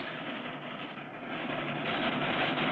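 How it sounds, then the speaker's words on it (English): A small train rumbles steadily across a high bridge, a continuous broad roar that swells slightly louder toward the end, with no voices. "As the little train starts across the bridge,"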